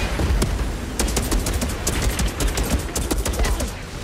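Rapid bursts of gunfire in the Outriders video game, an upgraded armor-piercing shotgun firing repeatedly amid a dense, loud barrage of overlapping shots and booms, with no speech over it.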